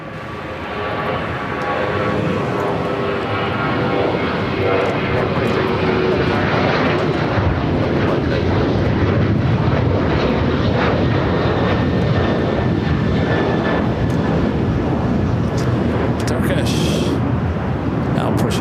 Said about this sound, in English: China 988 heavy on that Docker, wind 23013, runway 25 right, clear for takeoff